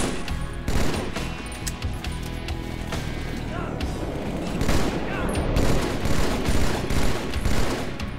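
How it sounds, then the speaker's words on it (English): Halo 2 video game firefight: dense, sustained automatic-weapon gunfire with rapid bursts and booming impacts, loud and continuous, with a voice speaking briefly under the shooting. "Let's just shoot him up."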